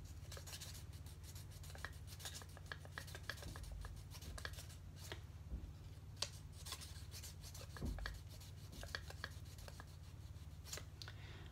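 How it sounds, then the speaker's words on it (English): Sandpaper rubbed by hand over rough edges of a DIY planetarium project, a faint, continuous scratchy rasp with irregular strokes and small knocks, close and alone. "Let's go on ahead and sand the rough off."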